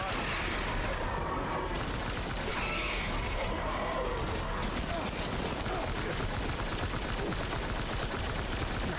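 Sustained gunfire in the Death Stranding video game, a dense, unbroken volley of shots filling the scene, with shouted voices over the shooting.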